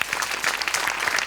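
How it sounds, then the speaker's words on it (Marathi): A live comedy-show audience applauds Amol Patil and Abhijit Pawar, with dense, loud, continuous clapping from many hands and no voices over it. "अमोल पाटील आणि अभिजित पवारांसाठी एकदा टाळ्या."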